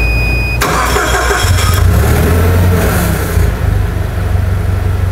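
Baoli KBG25 LPG forklift with a 2.5-liter IMCO engine cranks and starts after a brief electronic beep, then settles into a loud, steady close idle with a low rumble.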